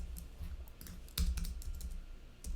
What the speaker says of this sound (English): I'm just going to type that out